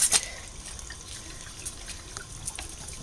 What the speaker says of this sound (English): Now do you hear the water going out?